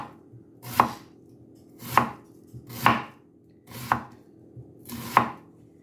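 A knife cuts an onion into thin wedges on a cutting board, giving five crisp, evenly spaced chops about a second apart. Each is clear and close, with a low hum behind them and no talk.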